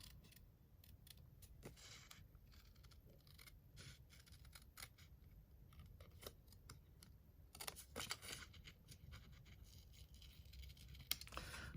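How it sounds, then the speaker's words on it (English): Paper snips cut along a drawn outline on paper for a card craft, a quick run of crisp, close snipping clicks in an irregular rhythm in an otherwise quiet room. "Then I'm going to come in with my paper snips, and I am going to cut along"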